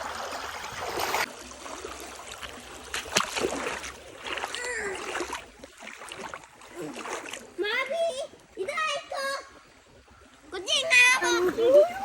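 Flowing river water at Kanjirappally, Kottayam, in Kerala, splashing and rushing close by in uneven bursts, heard under and between people talking, including a voice.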